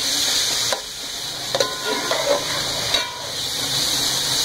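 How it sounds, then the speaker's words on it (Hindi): Spices and onions fry in hot oil with a steady hissing sizzle, broken by a few stirring knocks and scrapes, loud and close. "ऑयल हमारा गर्म हो रहा है, इसके साथ हमने मसाले प्याज डाल दिए।"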